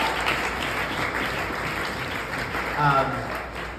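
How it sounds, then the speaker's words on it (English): Audience applause at a small gathering: a loud, steady wash of clapping close by, with a voice briefly rising over it near the end. "Round of applause for Brandon and Donovan, please."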